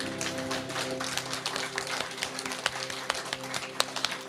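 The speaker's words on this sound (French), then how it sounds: "Oui, on peut l'applaudir." Audience applauding a rabbi at a Christmas celebration, a steady wash of many hands clapping with scattered sharper claps, moderately loud over a low hum.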